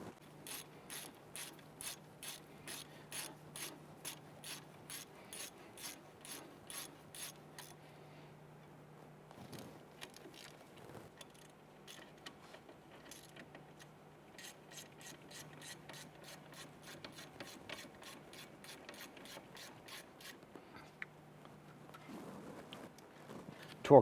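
Ratchet snugging down ball joint bolts on a 1999-2004 Jeep Grand Cherokee, heard as long runs of rapid, even clicking at close range, broken by a short pause, with a low steady hum underneath.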